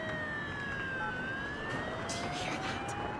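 A police siren wails with rising and falling tones over steady street noise, while crackling bursts like firecrackers pop in the background.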